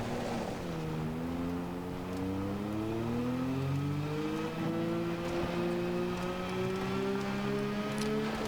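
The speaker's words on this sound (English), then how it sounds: "It's got that same sort of a buzzy cyber engine that is a Tron light cycle." A buzzy, cyber-sounding futuristic vehicle engine in a video game hums steadily, its whining tone sliding upward as it accelerates and then holding a sustained drone, fairly close against a bed of noisy background rumble.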